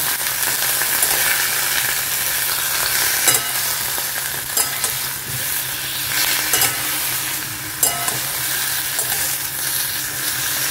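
Vegetables fry in a little leftover oil with a black cumin tempering, producing a loud continuous sizzle and hiss with occasional spoon clinks and scrapes against the pan.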